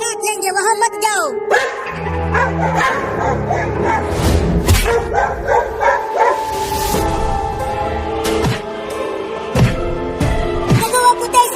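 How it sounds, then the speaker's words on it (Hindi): Cartoon dogs barking outside a wooden house in a repeated burst of sharp yips and bow-wows, loud and close, with whimpers mixed in over busy background music and effects. "देखो चिंटू, वो कुत्ते उस लकड़ी के घर के सामने भौंक रहे हैं"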